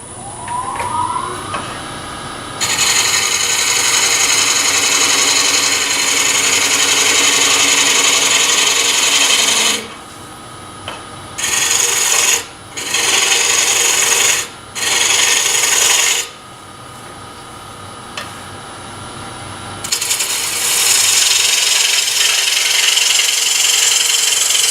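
A bowl gouge roughs out a wooden bowl shape on a lathe, giving a loud, close, continuous rasping scrape that breaks off briefly several times as the tool is lifted and reapplied.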